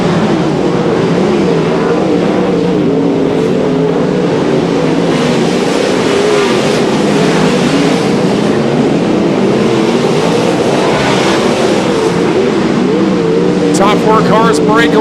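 410 sprint cars roaring around Ocean Speedway in Watsonville, a loud continuous engine drone from the pack throughout, with a race announcer talking over it.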